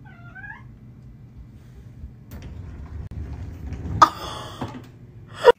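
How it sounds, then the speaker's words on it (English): A house cat meows at close range with a rising, complaining vocal tone, ending in a sharp, loud yowl, over quiet room noise in an early-morning bedroom. "Watch my cat argue with my mom for waking us up early on a Saturday."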